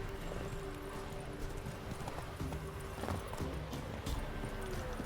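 Roach the horse running in The Witcher 3, a steady, dense clip-clop of hooves at a quick gallop, close and continuous against a busy ambient game soundscape.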